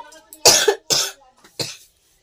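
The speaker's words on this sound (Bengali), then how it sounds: "কাশিটা খুব হচ্ছে" A person coughing three times in quick succession, close and loud, with brief pauses between the harsh bursts.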